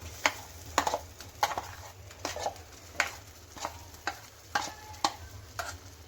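Masala spice mix for street-style masala puri stirred in hot oil in a pan, a faint continuous sizzle broken by regular scraping strokes of the spoon roughly every half second, with no talking.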